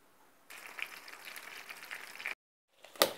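Soft, crackling sizzle of meatballs frying in butter in a pan for about two seconds, then a pause and a brief louder spatter.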